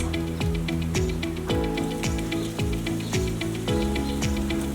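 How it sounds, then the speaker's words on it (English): Steady crackling sizzle of brown sugar and smoked paprika bacon cooking in a hot air fryer, with rhythmic mechanical clicks or thumps repeating throughout; no talking. "sizzles already because it was already hot"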